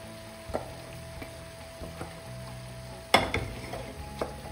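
Masala mix dropped into a pan for masala dosa filling and stirred, with a soft sizzle under a few scraping stirs and one sharper clatter partway through.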